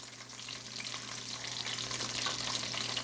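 Thin-cut chicken thighs frying in oil in a pan over medium-high heat, a constant close, dense sizzle that swells slightly louder over a few seconds, with no voices.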